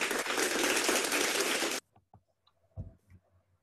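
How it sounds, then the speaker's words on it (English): A short burst of audience clapping after a product presentation, dense and close, cuts off abruptly and leaves a few faint taps and knocks in near silence. "Wow, daming clap."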